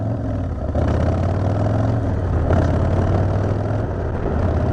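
A motorcycle's engine rumbles loud and close through aftermarket exhaust pipes, a steady deep throaty drone with slight swells in revs, with no talking.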